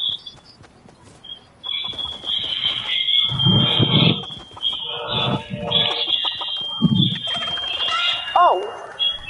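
Chicken clucking and squawking from the Fortnite video game comes in bursts over a steady high electronic tone and other game sounds, with loud, distorted in-game noise throughout.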